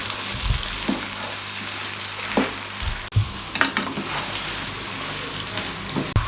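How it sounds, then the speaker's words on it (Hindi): Carrot, radish, cauliflower, garlic and green chilies frying on a medium flame for a winter pickle, an even sizzle with occasional stirring scrapes and a couple of clanks, no voices. "इनको मीडियम फ्लेम पे कम अज़ कम पे 10 मिनट तक हम इस तरीके से फ्राई कर लें।"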